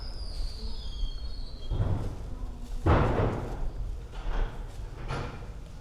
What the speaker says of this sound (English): Apologies for the closing doors.